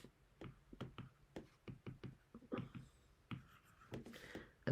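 Marker or stylus writing on a board or tablet during a physics kinematics lesson: a quick series of close, soft taps and short strokes in uneven rhythm, with no talk.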